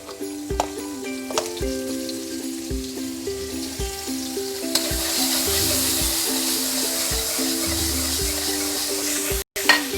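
Butter sizzles steadily in hot oil in a pan, a dense close crackle that swells partway through, with soft stirring scrapes and a background hum.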